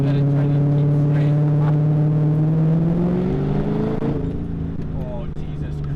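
A BMW E30 fitted with an M60 V8 engine accelerates at light throttle, a steady low drone rising in pitch as revs climb, loud and close, with people talking over it.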